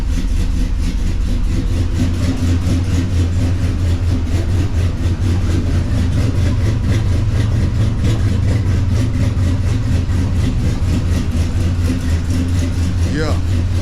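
A 1973 Oldsmobile Cutlass Supreme V8 idles right after a cold start, a loud, close, steady low rumble with an even, lumpy pulse that holds throughout and carries no talk.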